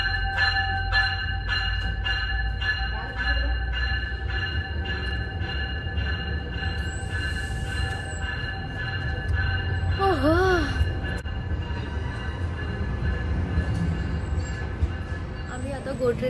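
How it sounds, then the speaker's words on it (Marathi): A GO commuter train sits at a station in Canada, giving a steady low rumble with sustained tonal hums. A bright chime sounds, and there is a brief voice-like sweep partway through. "मी जस्ट वरती येऊन तुम्हाला दाखवते की ही गो ट्रेन आहे."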